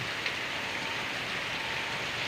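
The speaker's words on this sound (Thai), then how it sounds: "บรรยากาศฝนตก" Steady rain falls outdoors in Thailand, a constant close hiss of drops hitting surfaces with no breaks and no talking.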